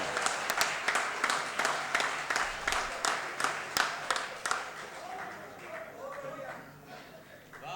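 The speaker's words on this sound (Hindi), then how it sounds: "एक बार खुल के तालियां बजा दो जरा जोरदार।" An audience at a Hindi comic poetry gathering breaks into rhythmic, unison clapping, loud and evenly beaten, then tapers off into scattered claps as a voice begins speaking over the fading applause.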